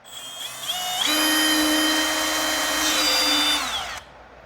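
A power drill pre-drills wood for fencing nails outdoors, whining steadily at high speed for about three seconds before stopping, loud and close with no talk.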